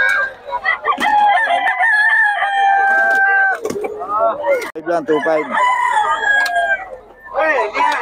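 Roosters crow and chickens cluck at a busy poultry market in Bocaue, loud and close with overlapping calls, while someone speaks briefly among the birds.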